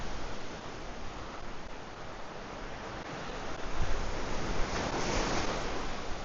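Big ocean waves break on a rocky beach on La Digue in the Seychelles, a continuous rushing surf roar that swells louder toward the end, with no voices.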